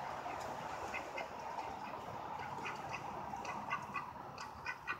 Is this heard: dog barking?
no